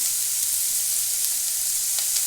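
Horse gram with coriander frying in a pan over medium heat, a loud, continuous bright hiss and crackle up close, unbroken and free of talk.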